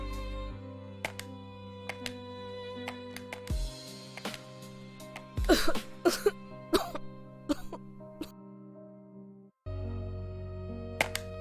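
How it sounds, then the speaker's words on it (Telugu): Several short, harsh coughs and throat-clearing bursts come in a cluster midway, set against steady low tonal background sound with no talking. "ఏయ్, ఏంటి దగ్గుతున్నా?"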